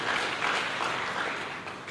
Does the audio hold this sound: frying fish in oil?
no